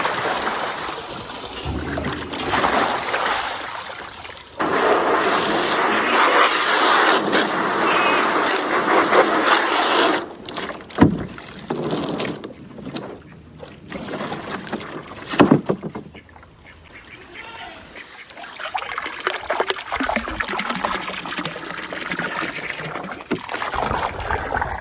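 Dirty water is dumped out of a duck's water trough, sloshing and pouring out in broad splashing bursts, with a few quieter gaps and trickles toward the end, close by and fairly loud.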